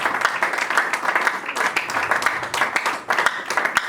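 A church congregation claps and cheers in praise, with dense, uneven applause from many hands throughout, loud and close.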